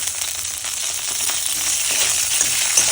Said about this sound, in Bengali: এরপরে দেওয়া হচ্ছে কাঁচা লঙ্কা